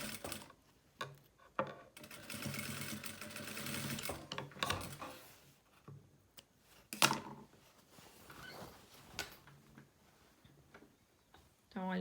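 A sewing machine stitches fabric for a toiletry bag in short mechanical bursts with pauses and handling clicks between them, close and moderately quiet, including a brief reverse stitch.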